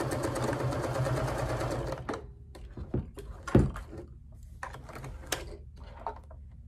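Sewing machine stitching a strip of Velcro onto a placemat tote bag as a closure, a dense steady run of fast needle clatter for two seconds, then stopping and giving way to scattered clicks and handling taps.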